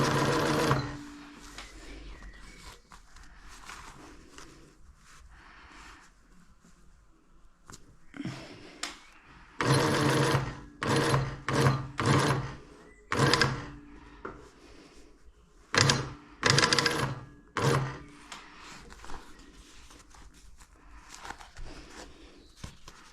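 Sewing machine stitching BMW E30 upholstery, quiet at first, then several short rapid bursts of stitching separated by pauses, close and fairly loud.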